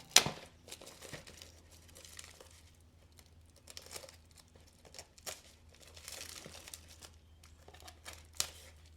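Crinkly plastic packaging around a traded butterfly knife being unwrapped, with close, irregular crackles and tearing bursts, a sharp snap at the start and another near the end, over a low steady hum.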